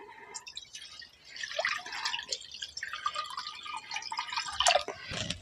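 Water runs and splashes into an iron pot set up for steaming rice-flour bhapa pitha, a soft, close, uneven trickling and dripping that grows briefly louder toward the end.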